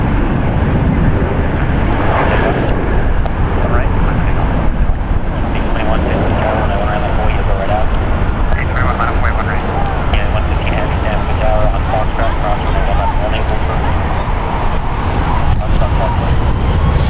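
An airliner touches down at San Francisco International Airport in a smoky landing: a loud, continuous jet roar dominates throughout, while voices talk over it.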